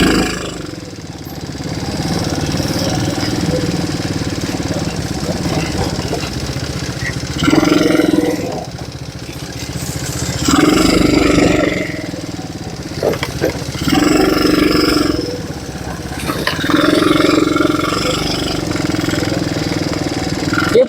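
An ATV engine runs and idles on a jungle ride in Malaysia, a steady, loud mid-pitched rumble that swells now and then, with people talking over it.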